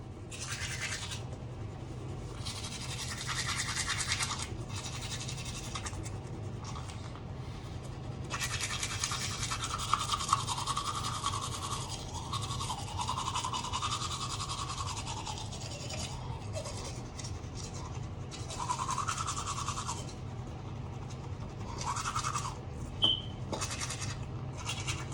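A toothbrush with small bristles scrubs teeth in bursts of wet, raspy brushing, with short pauses between strokes, close and fairly quiet.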